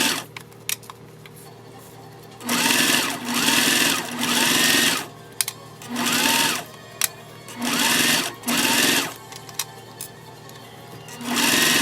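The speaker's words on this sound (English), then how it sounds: "Line that up, sew that down at 1/8 or 1/4." A sewing machine stitches lining fabric for a circle bear bag in five or six steady whirring bursts, each a second or so long, separated by short pauses. A single brief spoken word interrupts at one point.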